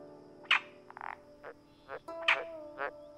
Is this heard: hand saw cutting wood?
no